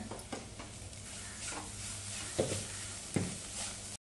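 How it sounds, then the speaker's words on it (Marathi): Ground dry coconut and poppy seeds are stir-fried in oil in a pan, a soft steady sizzle broken by a few sharp spatula scrapes and taps nearby. "सगळं चांगलं तेलावरती परतवून घेऊया।"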